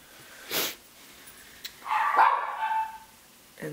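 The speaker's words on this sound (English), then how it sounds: "And sorry for the dog." A dog barks indoors while a Samsung Galaxy S4 phone reboots, giving a few separate sharp barks of moderate loudness at the start, in the middle and near the end, with quiet pauses between them and no talking.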